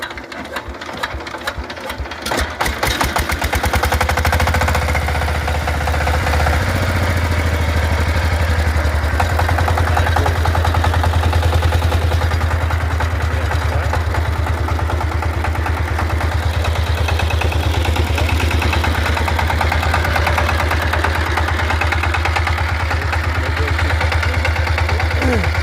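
A power tiller engine sputters to life and then runs at a steady, loud, rapid chugging drone that holds without a break, nearby and dominant.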